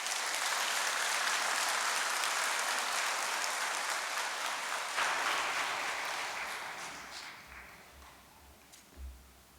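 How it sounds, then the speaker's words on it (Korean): A church congregation applauds at a worship service, with sustained clapping that holds steady for several seconds and then gradually thins and fades out. "박수로서 모셔주시기 바랍니다."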